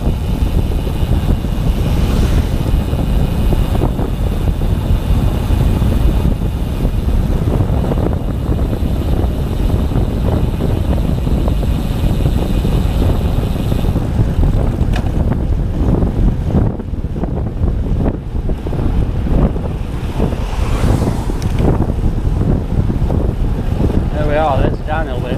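Heavy wind roars steadily across the microphone while riding a 2016 Specialized Diverge bicycle downhill into Binbrook, a loud, constant buffeting rush that drowns out everything else for the whole descent.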